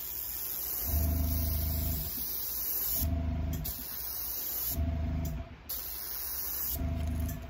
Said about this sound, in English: Let me get my airbrush.